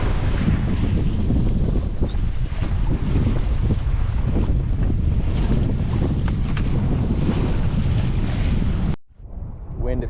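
Strong wind buffets a sailboat at sea with no engine, a loud, constant roaring rush that cuts off abruptly near the end to a quieter, softer background.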